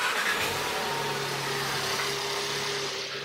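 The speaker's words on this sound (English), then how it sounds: "He's currently gonna start his car right now" A Volkswagen Golf R engine runs steadily right after being started, a close, even mid-pitched hum with a faint hiss and no revving, sounding alone without voices.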